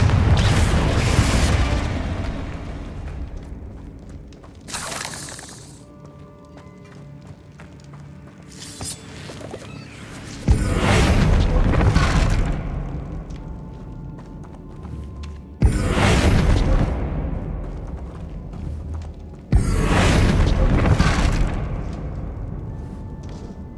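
Confringo explosive spell blasts in the Hogwarts Legacy video game, several loud booming bursts that each hit suddenly and then roll off, separated by quieter stretches.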